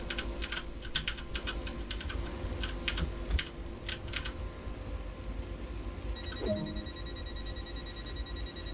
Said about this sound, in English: There's been much furious typing.